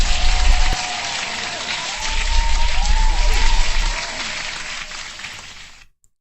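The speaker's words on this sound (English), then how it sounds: "Hand clap for the market." A hand clap applause sound effect plays, a loud dense burst of many clapping hands that fades out and cuts to silence.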